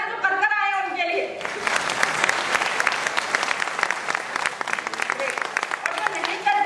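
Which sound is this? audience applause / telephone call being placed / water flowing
audience applause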